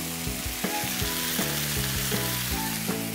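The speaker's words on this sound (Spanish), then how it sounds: "Y esperamos a que se sofría." Vegetables sauté in a frying pan for Veracruz-style fish, sizzling steadily close up, with several sharp scraping stirs of the pan and no talk over them.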